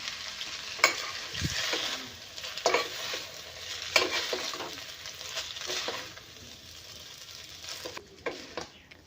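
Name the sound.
mixing noodles with salt in a pan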